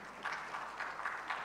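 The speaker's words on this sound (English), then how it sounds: "Another round of applause for Uganda Investment Authority." An audience applauds the Uganda Investment Authority at International Buyers Week in the Munyonyo Convention Center: steady, moderately faint clapping from a crowd in a large hall, with gentle swells recurring throughout.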